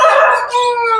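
Aseel rooster crowing once, loud and close, a single sustained harmonic call with a brief dip midway before trailing off, heard alone.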